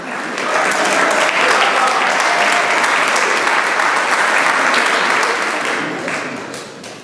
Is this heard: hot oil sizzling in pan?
no